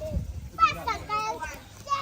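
Children playing outdoors on an open court-like area, their lively overlapping voices near and chattering in short bursts, with someone talking close over them.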